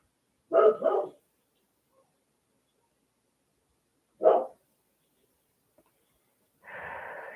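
A dog barks twice close by, a pause, then a single bark, followed by a short burst of breathy noise.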